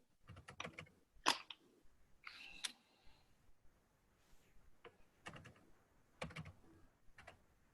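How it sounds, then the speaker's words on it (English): Scattered keystrokes on a computer keyboard during an online board meeting, quiet and close, coming in short irregular bursts with pauses between them. "I'm typing it in for you"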